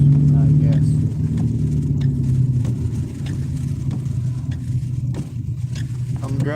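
A car drives along a town road with a steady, loud engine and road rumble close by, while someone talks over it throughout.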